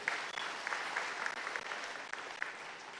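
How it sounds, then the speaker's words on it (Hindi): Audience clapping at a women's self-help group loan distribution event, a continuous, even round of applause from a gathered crowd, moderately quiet and steady throughout. "जरा ताली तो बजाओ रुबीना के लिए।"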